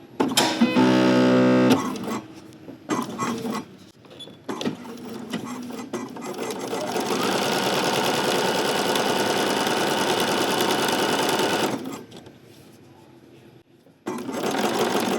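Sewing machine running steady bursts as it stitches a seam on linen pants, starting and stopping with a long continuous run in the middle, close and fairly loud with no talking.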